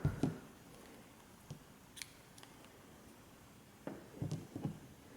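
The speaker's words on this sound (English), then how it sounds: "cut your yarn." Scissors snip through crochet yarn in a quiet room: a couple of short crisp cuts near the start, then two or three more close together near the end, with soft handling noise between.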